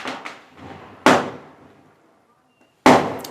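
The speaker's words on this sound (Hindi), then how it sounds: "पटाखों की इतनी आवाज" Three loud firecracker blasts, each a sharp bang trailing into a rumbling decay, with a near-silent gap before the last one.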